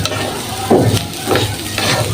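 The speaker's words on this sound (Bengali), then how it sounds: "এই চালটা ভালোভাবে কষানো হয়ে গেছে, ভাজা হয়ে গেছে।" Rice for pulao is fried and stirred in a pot, giving a close, soft sizzle with a few scraping stirs of a spoon against the pan.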